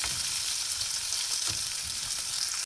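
Spices sautéing in a hot pan with onion and tomato, a dense, even sizzle that fills the whole stretch close up and stops abruptly at the end, with no talking.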